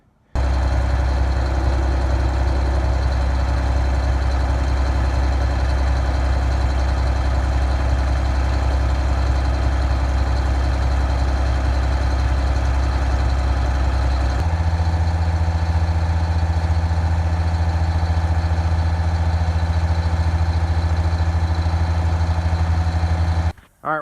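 A Detroit Diesel 6V92 engine in a bus conversion idles steadily with a deep rumble during an injector-cleaning hot soak, its tone shifting slightly partway through, then cutting off at the very end.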